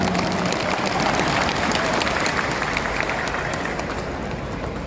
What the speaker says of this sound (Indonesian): Tepuk tangannya untuk Majelis Banten.